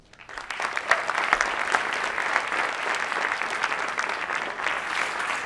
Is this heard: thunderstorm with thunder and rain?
no